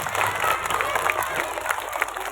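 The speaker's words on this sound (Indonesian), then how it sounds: "Tepuk tangan untuk Pak Saman." Audience applause at a primary school's Maulid Nabi celebration, a steady dense wash of clapping that is fairly loud and continuous, with crowd murmur mixed in.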